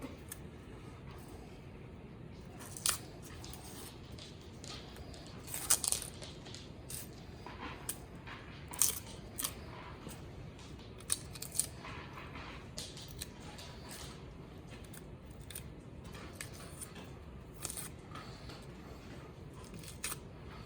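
Dry papery onion skin crinkles and crackles as it is peeled off by hand, with sharp little snaps scattered through a long, quiet, close-up stretch and no voices.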